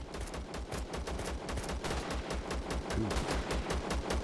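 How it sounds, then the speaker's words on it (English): Bandit shootout in the video game Zero Sievert: rapid, sustained bursts of automatic gunfire crackle steadily throughout, dense and close, with a brief voiced exclamation once near the middle. "Bandit shootout, fair enough."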